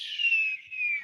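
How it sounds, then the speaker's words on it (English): A bomb-whistle sound effect plays as a single thin, faint tone that slides slowly downward in pitch for about a second, with a brief dip partway through. "That bomb whistle?"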